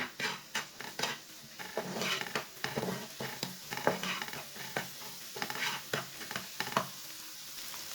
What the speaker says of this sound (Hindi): अब 2 मिनट तक पका लेंगे ऐसे ही मिक्स करते हुए